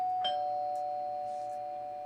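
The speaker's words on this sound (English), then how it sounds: "Except the doorbell." A single doorbell chime sounds once, then its clear tone rings on and slowly fades in a quiet room.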